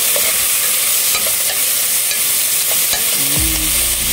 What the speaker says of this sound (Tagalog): Ang ating isda na pinirito.